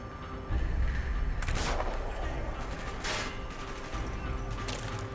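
Gunfire in the Call of Duty Black Ops campaign, dense bursts of shots and booming blasts rolling over a constant rumble of battle, with a couple of sharp loud volleys standing out.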